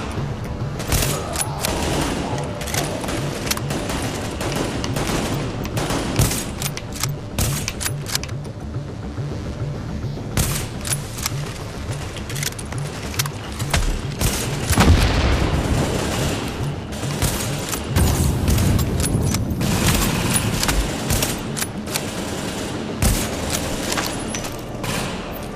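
Sustained gunfire in The Division, Broadway Emporium mission, with rapid bursts and overlapping shots, thuds and distant booms, dense and loud throughout the whole stretch.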